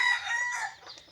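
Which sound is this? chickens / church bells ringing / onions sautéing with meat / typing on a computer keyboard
chickens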